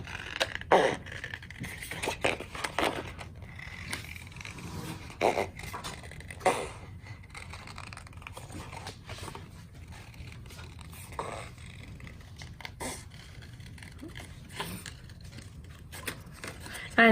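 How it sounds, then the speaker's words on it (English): Small detail scissors snip through postcard paper to cut out a large pink clock shape: scattered crisp snips and paper rustles come at an irregular pace, quiet and close, over a low background hum. "I'm gonna get this large pink clock down here with my detail scissors."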